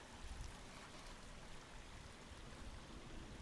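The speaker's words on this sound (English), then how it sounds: "Beautiful creek." Creek flowing through snowy winter mountains, a steady broadband rush of running water heard close and alone, even in level throughout.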